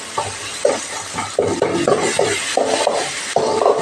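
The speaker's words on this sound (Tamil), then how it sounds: "தக்காளி நல்லா மசிஞ்சு வெங்காயமும் தக்காளியும் நல்லா மிக்ஸ் ஆகிற அளவுக்கு வதக்குங்க." Tomatoes and onions are sautéed in a pan. A spoon scrapes and stirs close up in repeated rhythmic strokes over a low background sizzle.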